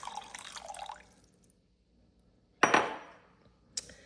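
Water splashes into a container in two short pours, the first a bright gurgling rush and the second a brief trickle, with a quiet gap between, while preparing a raw vegan dish.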